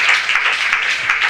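Applause in a church congregation, a steady dense wash of many hands clapping together, continuous and fairly loud for the whole short stretch with no pauses.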